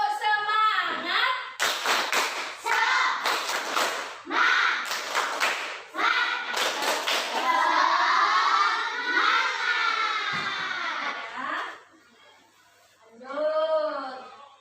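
A class of children in an Indonesian school lesson performs a rhythmic spirit clap, bursts of clapping in patterned groups mixed with chanting voices, a teacher's voice leading between the sets.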